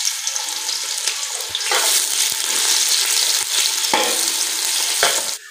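Onion goes into hot ghee for a Pakistani village dish, a loud, continuous close sizzle with a few sharp stirring knocks against the pan.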